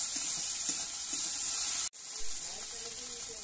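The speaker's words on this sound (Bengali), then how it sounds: "মশলাটাকে আমি ভালো করে কষিয়ে নেব।" Spice paste sizzles and hisses steadily as it is sautéed in a pan, a loud, close frying crackle that cuts out for an instant midway and then resumes.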